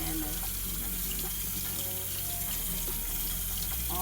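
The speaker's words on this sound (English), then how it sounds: "I'm going to go ahead and rinse our food off." Strawberries and blueberries rinsed under a steadily running kitchen tap, a continuous loud splashing stream of water filling the whole clip.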